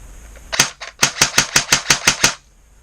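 A Classic Army MP5 airsoft gun fires about nine sharp semi-automatic shots in quick, fairly even succession, loud and close, with a faint motor whine before and after.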